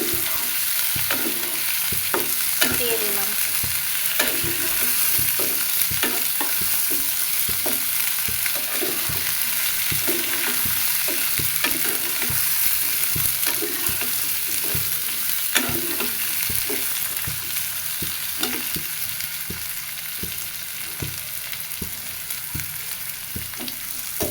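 Cut potatoes and pointed gourd fry in hot oil in a pan, with a loud continuous sizzle broken by regular scraping stirring strokes throughout, no voices.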